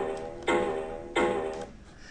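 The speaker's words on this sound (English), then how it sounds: "I want to make the sound of a door opening." A game door-opening sound effect plays twice, each a bright creaking burst lasting about a second, with a short pause between them and nothing else in the background.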